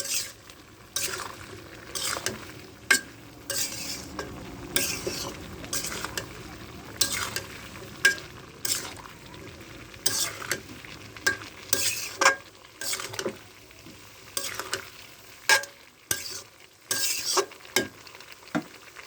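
Fish and turnip (kohlrabi) fry in a pan while a spatula stirs them: rhythmic scraping strokes recur every second or so over a low, steady sizzle, close and moderately loud, with no speech.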